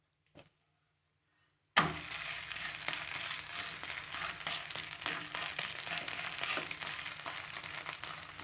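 Beaten rice rotti frying in ghee in a covered pan over a medium flame, a soft continuous crackling sizzle that starts suddenly after near silence and stays fairly faint and even.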